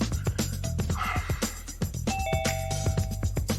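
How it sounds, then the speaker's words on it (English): A doorbell chimes at a home, with a couple of sustained bell tones ringing out over background music and room noise. "I heard the doorbell ring."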